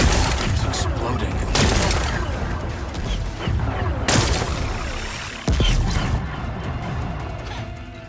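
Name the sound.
rocks exploding in Horizon Forbidden West video game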